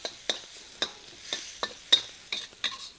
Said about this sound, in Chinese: 大蒜跟洋葱给它炒香了之后呢放咖喱粉